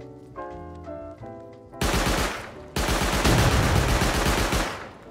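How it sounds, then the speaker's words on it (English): Turret gunfire in the Rust video game: a quiet tonal passage breaks at about two seconds into loud, sustained rapid automatic fire that pauses briefly, then resumes dense and close before tapering. "I get really jumpy when shot by turrets and I tend to freeze up."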